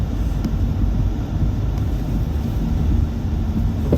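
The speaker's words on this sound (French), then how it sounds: "Et là il y a un fort vent du nord" Strong north wind blowing on a snowy early morning at minus six degrees, a steady loud roar buffeting the microphone throughout with no let-up.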